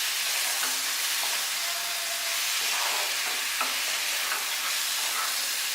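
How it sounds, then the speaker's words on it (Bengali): A spice mixture with sugar being stirred in an oily frying pan for a Bengali elephant foot yam and shrimp curry, giving a steady close sizzle with scraping stir strokes throughout and no talking. "সবগুলো একসাথে মিশিয়ে নেব।"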